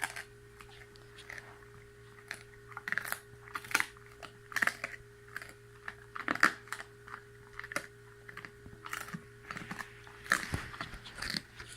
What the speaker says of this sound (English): So this is Benny consuming his first duck foot